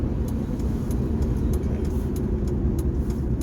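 Power utility trucks near hotels rumble in a steady, low engine drone, fairly close and continuous, with faint clicks and no talking.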